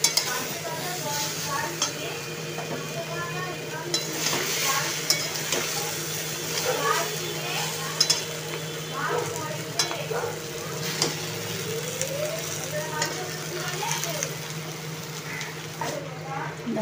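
Jackfruit curry sautéing in plenty of oil, a steady close sizzle with repeated scraping and clinking of a spatula against the pan, punctuated by sharp metallic ticks, while someone talks intermittently over it.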